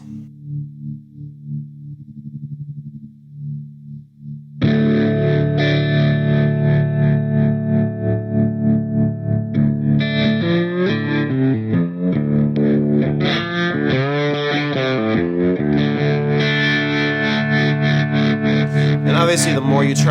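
An electric guitar plays through a Gecko Pedals O Face modulated overdrive pedal with tap tempo, a quiet clean passage giving way to loud, distorted, chorus-swirled chords and notes.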